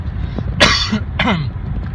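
Two rough coughs come close together over a low background rumble, harsh and throaty, the second slightly shorter than the first.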